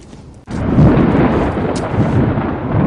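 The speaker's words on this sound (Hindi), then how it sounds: "तूफान न जाने कब तक रहेगा।" A loud, sustained thunderstorm roars after a brief quieter start, a deep rumbling wash of thunder and heavy weather that swells and holds steady with no voices.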